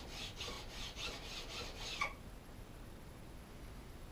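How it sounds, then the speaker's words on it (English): A snowboard wax scraper's edge is rubbed along a file in about seven quick, rhythmic rasping strokes over two seconds, close and quiet, then stops, leaving faint background hiss. "you just want to run it along the file until you have a nice sharp side."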